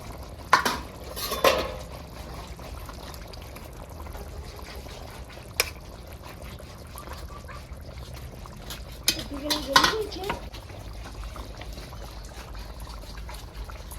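Fish pieces going into a simmering curry pot: a few sharp metallic clinks of lid and utensils against the pot, soft splashes and stirring over a low background, with a person talking in places.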